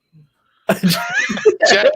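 One sharp, abrupt sneeze bursts out close and loud, followed at once by people talking over it.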